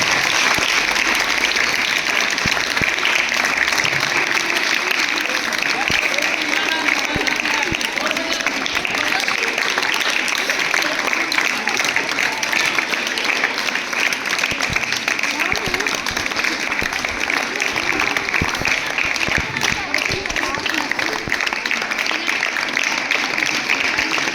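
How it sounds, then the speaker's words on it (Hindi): An audience at a girls' higher secondary school Girl Child Day event claps loudly and continuously for over twenty seconds, a dense sustained wave of applause with voices faintly mixed in. "बजाओ, अच्छी जोर से ताली बजाओ।"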